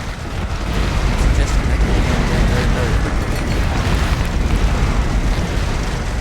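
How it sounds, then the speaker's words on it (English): Rocket cannons exploding in an 8v8 video game battle, a dense, loud, continuous roar of booms and blasts blending into one rumbling wall of sound. "And all these rocket cannons by Massacre."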